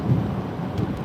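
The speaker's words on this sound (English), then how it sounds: "New York City is pouring rain right now." Heavy rain pours steadily over New York City in a dense, continuous low wash, with no voices over it.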